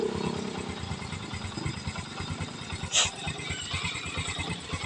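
A Honda CT125 motorcycle engine runs with no battery connected, a steady, rhythmic low chugging that holds at an even idle throughout.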